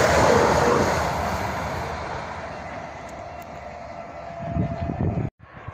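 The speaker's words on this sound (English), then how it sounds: "Here comes the St Pancras service from Nottingham." A passenger train on the St Pancras service from Nottingham passes close at Syston as a loud, steady rumble with a rushing roar. It eases slightly, then ends in a brief clatter before cutting off.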